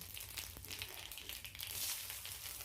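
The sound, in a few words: cumin seeds sizzling in hot mustard oil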